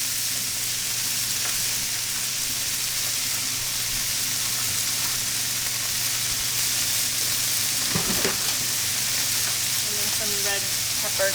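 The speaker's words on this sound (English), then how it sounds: "So I'm going to stir this up and cook it for about 10 minutes until the vegetables are soft" Ground round, soy sauce and vegetables sizzle and fry steadily in a hot pan, with a continuous close crackle and brief stirring scrapes near the end.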